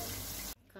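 Hot water pours steadily into a cooking pot for half a second in a dense rushing stream, then cuts off abruptly, leaving a faint quiet tail.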